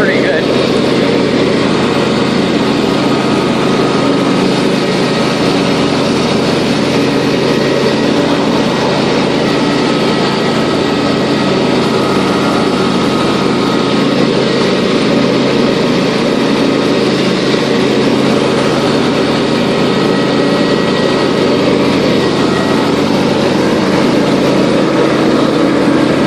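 A John Deere LA150 riding lawn mower with gator blades runs steadily at night, its engine droning close and loud without a break for the whole stretch.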